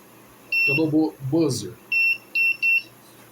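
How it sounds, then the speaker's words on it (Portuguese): Several short, high electronic buzzer beeps from a continuity tester, spaced unevenly, with someone talking briefly between them. "Esse LED, ele se acende e é emitido o bip sonoro pelo buzzer"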